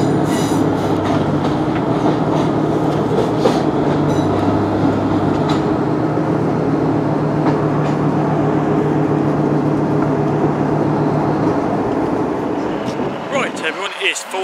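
A train moves through Cardiff Central station with a steady loud rumble, wheel noise and some squeal at times. People speak over it before the sound fades near the end.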